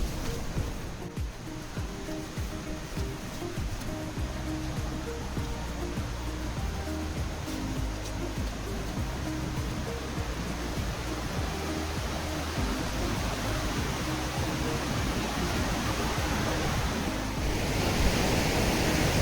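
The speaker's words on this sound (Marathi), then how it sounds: "अतिशय सुंदर असा एकदम स्ट्रेट पडणारा हा धबधबा आहे" A waterfall pours straight down near Kolhewadi in Junnar, a steady, dense, loud rush of falling water that fills the whole stretch without pause.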